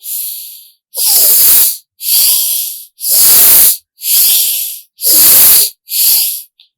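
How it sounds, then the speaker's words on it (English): Seven forceful, rhythmic nasal exhales in a seated yoga breathing exercise, each a loud hissing whoosh through both nostrils lasting under a second, spaced by brief silent pauses. "You have to use your breath from both the nostrils, not from the mouth."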